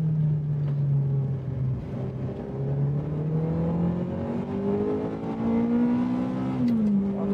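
A 1994 Ferrari F355 lapping a track, its engine droning steadily and loudly as the pitch climbs through a gear, with a brief drop at a shift near the end.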